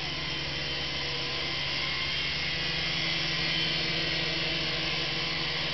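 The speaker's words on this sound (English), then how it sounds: "Beautiful indoor helicopter." A Syma S109 Apache, a small 3-channel indoor RC helicopter, flies nearby with a constant, high, buzzing rotor whine that holds steady throughout.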